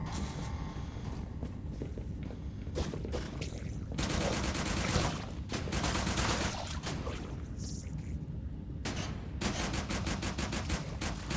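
Rapid SMG gunfire in Retchid, a DOOM 3 mod, loud bursts of fast repeated shots over a constant dense game din of footsteps and ambient noise.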